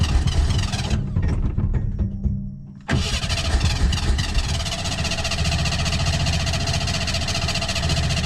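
A Ford vehicle's engine cranks near and loud, briefly stalling into a short gap before cranking again and catching into a steady, rough running drone.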